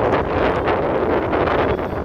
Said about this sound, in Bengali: তোমাদের না হাওয়ার আওয়াজটা শোনাই, তাহলেই বুঝতে পারবে কি জোর হাওয়া বইছিল।